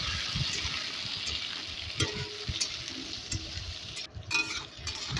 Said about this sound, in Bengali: এবার এর মধ্যে কেটে রাখা কুমড়ো আর আলুটা দিয়ে দেব। ভালোভাবে নেড়ে চেড়ে নেব।